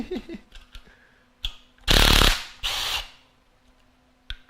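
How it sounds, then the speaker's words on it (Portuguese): A cordless 1/2-inch impact driver loosens a T30 screw in two loud, close bursts of buzzing, about a second and then half a second long, with quiet handling noises before and after. "alguém usando uma parafusadeira de meia para soltar parafuso T30"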